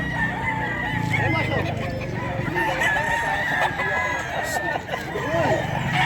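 A Boston Roundhead rooster crows loudly and close at a busy chicken market in Bocaue, Bulacan, with clucking fowl, market bustle and people talking around it.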